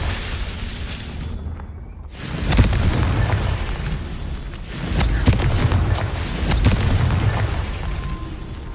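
Confringo fire spell exploding in Hogwarts Legacy, a brief silence broken by a loud close blast followed by rolling booms and crackling bursts that swell and fade over several seconds.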